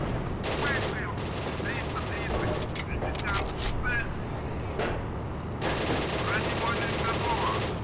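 T-50 light tank guns open fire on a Panzer I in the Steel Fury game, with rapid bursts of machine-gun fire and cannon blasts. Someone talks over the dense, continuous gunfire.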